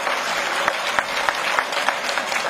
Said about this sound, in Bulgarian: Аплодисменти, наистина!